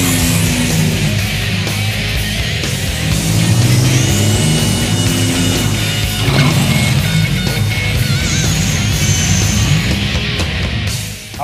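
A 1985 Buick Grand National roars at a drag strip during a burnout and launch, engine loud and close with rising and falling revs, tire squeal, and engine pitch sweeping upward over about eleven seconds.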